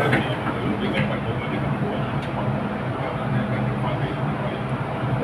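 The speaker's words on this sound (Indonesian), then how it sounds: "Ini namanya MTR kereta api ya, kereta api" A steady, rumbling interior hum of a moving MTR train in Hong Kong, broadband and continuous, with faint clicks and a murmur of distant voices underneath.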